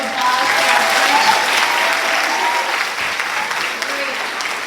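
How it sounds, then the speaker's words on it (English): An assembly audience claps in a sustained round of applause, dense and fairly close, holding steady for several seconds before tapering slightly. "Let's just have a round of applause for our friends."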